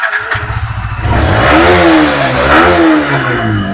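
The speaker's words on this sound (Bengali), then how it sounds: "গাড়ির সাউন্ডটা শুনিয়ে দিই" A 2019 Yamaha R15 version 3 BS4 motorcycle at a used bike showroom starts up and revs, rising from a rough low rumble into a loud, sustained, wavering roar close by.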